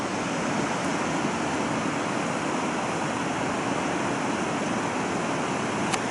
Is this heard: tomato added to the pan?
no